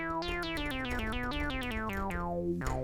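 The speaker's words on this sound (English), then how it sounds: "And now we sound like a Moog." An Arturia Modular-V software synthesizer, its filters and envelopes shaped to sound like a Moog, plays a steady run of bright, buzzy notes that step up and down, each with a sweeping filtered attack.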